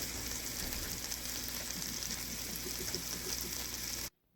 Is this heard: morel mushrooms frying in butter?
yes